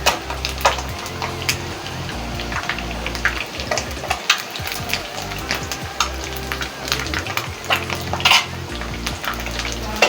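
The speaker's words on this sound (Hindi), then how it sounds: "तेज़ आंच पे करें इसे फ्राई" Egg-stuffed aloo kofta fry in hot oil over high heat, giving a loud, continuous sizzle with crackling spatter. Occasional clinks of a spoon or pan sound throughout, with music underneath.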